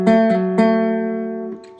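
Fingerpicked notes on a three-string cigar box guitar, about three quick plucks followed by a long sustained ring that fades, recorded close with nothing else in the background.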